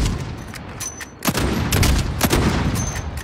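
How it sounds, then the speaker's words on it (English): Sniper shots in a squad-based shooter game: sharp cracks and booms repeat every fraction of a second over a constant rumbling battle backdrop, loud and close. "I'm getting sniped at."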